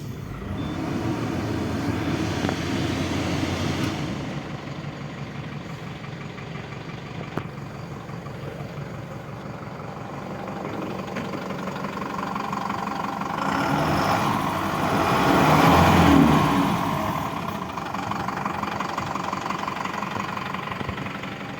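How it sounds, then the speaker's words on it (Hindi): Diesel engine of a Tata LPT 710 BS6 4-4.5 ton truck starting and then idling, a steady low rumble with a brief swell in revs partway through. "एंड अभी ट्रक को स्टार्ट कर इंजन के साउंड सुनाएंगे।"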